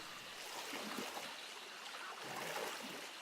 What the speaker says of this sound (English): Just going to tread water for a second.